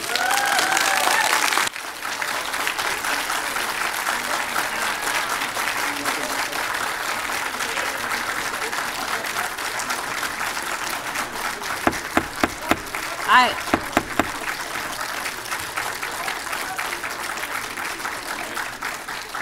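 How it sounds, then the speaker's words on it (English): Members of the public applaud in a city council chamber, a steady round of clapping that runs for most of the stretch before tapering into a few scattered, sharper claps near the end. "for the members of the public, please refrain from applauding, please."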